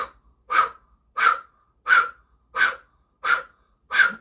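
Deep, forceful rhythmic breaths during a Kundalini yoga exercise, seven sharp bursts spaced evenly about every two-thirds of a second, close and loud with silence between them and no talking.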